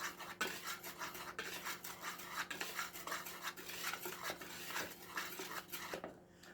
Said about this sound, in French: On mélange à nouveau.